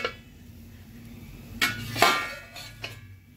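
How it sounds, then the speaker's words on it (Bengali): Metal lid lifted off a cooking pot while making soru chakli pitha from rice and lentil batter, heard as a few sharp clanks and clinks in a quiet kitchen, the loudest near the middle. "ঢাকাটা খুলে দেখবো।"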